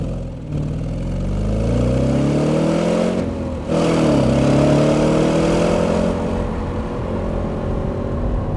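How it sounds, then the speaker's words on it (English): Audi RS4 engine in dynamic drive mode revving hard, its note climbing in two rising sweeps with a brief lift between them, loud and close, then settling into a steady drone with no talk. "I'm seduced by this engine."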